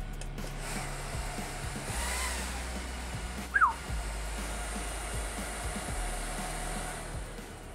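AIO liquid cooler's pump and fans on first boot, a steady soft whirring hum with a low drone and a brief brighter chirp midway, running alone without talk.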